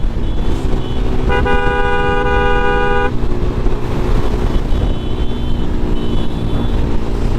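A vehicle horn blares once for about two seconds over dense, loud road traffic on the Dhaka-Chittagong highway, with trucks and buses rumbling close by throughout.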